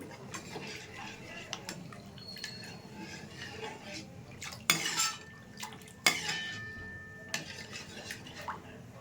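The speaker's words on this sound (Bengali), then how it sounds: "এখানে এক বাটি গুঁড়ো দুধ আমি দিয়ে দিচ্ছি ভালো করে মিশিয়ে নিচ্ছি" Milk powder stirred into a pot of milk thickened on the stove for dudh puli pitha, with clinks and scrapes of a spoon against the pot and a few sharper metallic knocks over a low steady background.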